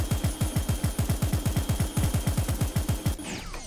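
Rapid automatic gunfire from a Gundam mod weapon in the VR game Blade and Sorcery: a steady burst of about twenty evenly spaced, punchy shots over three seconds, loud and close, then a brief mechanical tail as it stops.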